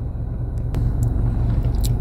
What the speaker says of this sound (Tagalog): nandito tayo sa sasakyan kasi matutulog na dapat